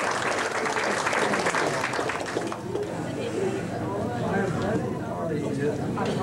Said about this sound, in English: So I think we all hand a round of applause for this celebration.